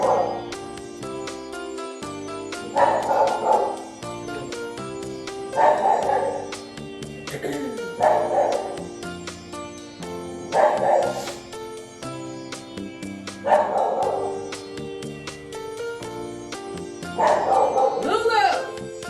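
Dogs barking inside an apartment building, sharp bursts of barks and yips recurring about every two to three seconds over a constant musical background.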